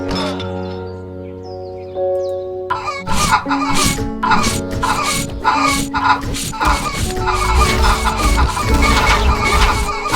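Zombie chickens in the PC game 50 Years cluck in rapid, repeated bursts over a soft musical backdrop, the clucking getting denser and louder after a quieter opening of tones.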